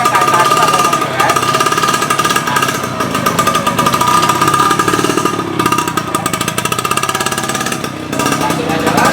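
A Vespa Special 90 scooter engine buzzes close and loud while riding, with a steady rapid two-stroke chatter that dips and surges slightly as it moves along, and a voice talking over it.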